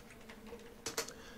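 Quiet keystrokes tap on a computer keyboard while an email subject is typed, a few soft clicks followed by two sharper, louder key hits near the end.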